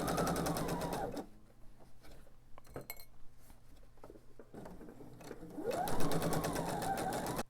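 A sewing machine joins the two ends of quilt binding, whirring in two close bursts at the start and the end. Quiet handling and light clinks of pins fill the gap between them.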